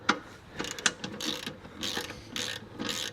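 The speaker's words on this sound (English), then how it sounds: "while I torque these down" A ratchet wrench clicks in quick, repeated bursts as bolts are cranked down, each run of close, rapid pawl ticks separated by brief pauses.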